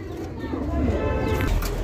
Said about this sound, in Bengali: এই মুহূর্তে আমরা দেখতে পাচ্ছি এখানে চমৎকার আরো এক জোড়া কবুতরের কালেকশন রয়েছে